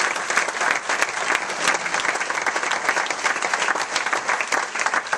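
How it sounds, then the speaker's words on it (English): Loud, sustained applause from a large crowd at West Virginia University's celebration of joining the Big 12, dense clapping filling the space evenly from start to finish. "Can you help me thank him by giving him a round of applause?"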